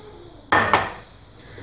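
Two sharp clinks close together, as three eggs are cracked against a bowl for Spanish madeleines, in a quiet kitchen.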